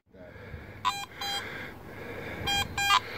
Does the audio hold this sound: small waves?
no